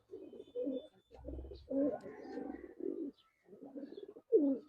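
A silver Jabra pigeon coos close by in a series of low, throaty phrases broken by short pauses, with no voices alongside.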